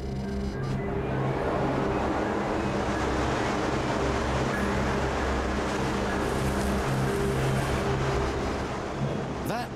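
An electric fan blows a steady, loud wash of air at a metal pole, making a continuous broadband roar with low sustained tones underneath that hold for the whole stretch.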